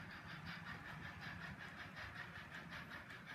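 An HO scale model train runs on a home layout, giving a steady, continuous rolling rumble with a faint rhythmic clatter and hiss, fairly quiet and unbroken throughout.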